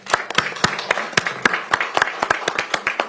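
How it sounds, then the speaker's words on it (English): Sparse, distinct hand claps from a small audience at a Pierce County council meeting, irregular individual claps close by with no voices. "Let's give them a round of applause"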